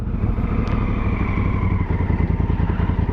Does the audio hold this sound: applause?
no